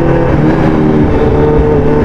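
A Kawasaki H2 or Honda CBR650R motorcycle engine runs loud and close, with a steady, rough idle and revving rumble throughout and no voices.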